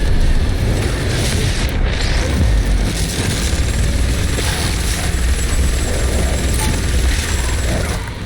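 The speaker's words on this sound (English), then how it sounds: "I think I'll pull out the minigun." A minigun fires nonstop in DOOM Eternal, a dense, loud mechanical roar of rapid shots and whirring barrels with heavy low rumble, sustained without a break.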